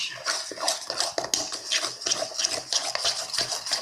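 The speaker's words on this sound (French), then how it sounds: "Et on mélange." Yogurt cake batter being stirred in a bowl, a continuous brisk scraping and swishing of the utensil against the sides, close and fairly loud, with no speech.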